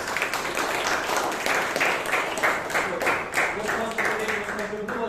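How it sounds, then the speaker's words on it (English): A room of Toastmasters club members gives a round of applause at their Bangalore meeting, a steady patter of clapping with some murmured voices mixed in, lasting around five seconds. "So can we have a round of applause for that?"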